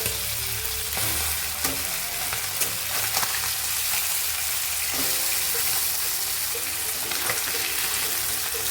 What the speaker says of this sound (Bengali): এখন এক সাইড ভাজা হয়ে গেছে এভাবে সাইডটা চেঞ্জ করে দেবো